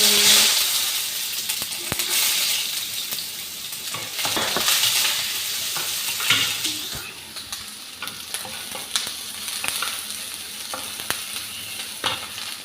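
Onion frying in oil in a pan for a stir-fry, a loud, dense sizzle with intermittent clacks and scrapes of stirring that later settles into a lighter, crackling fry.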